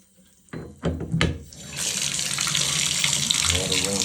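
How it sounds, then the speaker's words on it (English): Water from a shower faucet turns on and runs steadily as a loud, continuous broadband rush after some brief clunks and handling noises. "Turn your water back on. Test your faucet."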